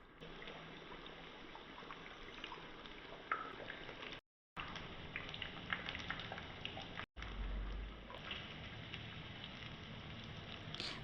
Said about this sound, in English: Deep fry in hot oil.